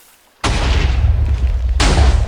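Two loud, close explosions from a Minecraft TNT cannon burst out one after another, each blast a heavy roaring boom that sustains its rumble with no voices.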